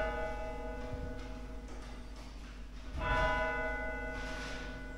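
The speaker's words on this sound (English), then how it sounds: "For whom the bell tolls." A church bell at St Mary's in Arkengarthdale strikes faintly in a quiet interior, its ringing tones sustained with a stronger stroke near the end, no talking.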